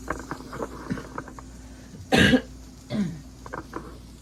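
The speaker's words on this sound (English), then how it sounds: "I have coughing again." A person coughs twice, first a loud harsh cough and then a softer one, against faint background noise.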